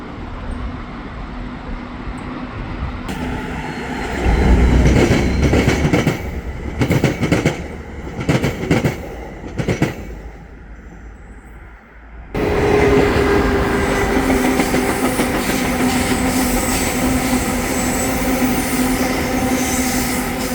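A VIA Rail or CN train passing at a bike path in Montreal West, a loud, close roar of rolling wagons with rhythmic clickety-clack, a brief quieter gap midway, then the rumble resuming strongly.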